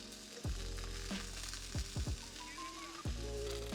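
Beer brats sizzle in a hot cast iron skillet with oil, a close, steady frying hiss punctuated by several heavy thuds and knocks as the sausages are dropped in and moved, with no talking.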